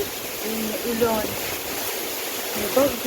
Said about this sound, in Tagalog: Ayun na ulan.